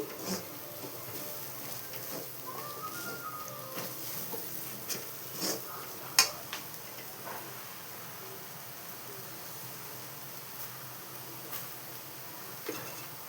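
Gongura pachadi being mixed in a pan, a soft, steady scraping and stirring with a faint background hiss and a few light clicks, fairly quiet throughout.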